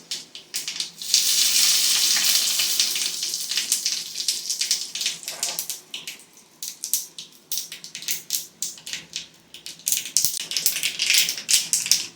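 Mustard seeds, cumin, a pinch of asafoetida and curry leaves hit hot oil that already holds urad dal, giving a loud sizzling hiss and then a dense run of crackling, popping spatters close by.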